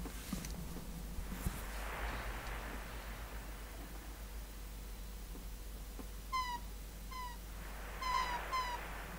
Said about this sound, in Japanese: あ、ウミネコかな。